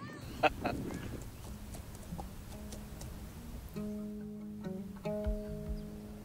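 Horse hooves clip-clop unevenly on the ground as a six-year-old child rides across the Mongolian countryside, with a few sharp hoof strikes early on and steady sustained tones and outdoor noise later.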